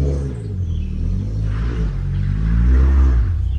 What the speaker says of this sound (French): sa voiture continue de tourner là au moment où je vous parle. Ça fait un gros bruit sourd parce que c'est une voiture un peu tunée